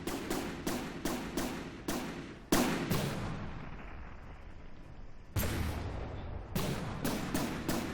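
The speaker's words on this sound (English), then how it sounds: "Why is this thing firing at its allies?" Heavy weapons fire in the ship combat game From The Depths: a string of sharp, loud shots in quick bursts, then a lull with a ringing tail, then more rapid volleys, all close and without speech.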